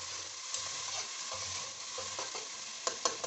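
Masala fries in ghee while a spoon stirs it, making a close, steady sizzle with rhythmic scraping strokes and a few sharper clicks near the end; no talking.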